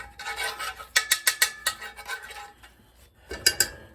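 Metal utensil scraping and stirring across the bottom of a cooking pan, with a run of sharp rhythmic scrapes and clinks, a pause, then a few more strokes at close range.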